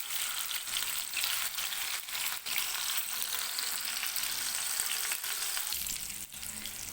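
Kastoori kebabs fry in oil, giving off a steady, close hiss of sizzling with small pops and the occasional stir, continuous and without talk.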